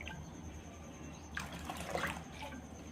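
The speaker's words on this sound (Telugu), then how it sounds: "2 టైమ్స్ వాటర్తో క్లీన్ చేసిన తర్వాత మళ్ళీ నిండుగా వాటర్ వేసుకోవాలి" Water is poured into a bowl of soaked idli rice, a faint trickle and splash rising briefly in the middle over quiet room background.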